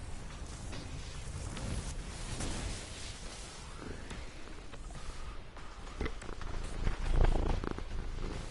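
A cat purrs right against a microphone, a low, rumbling drone that continues steadily throughout at close range with no talking.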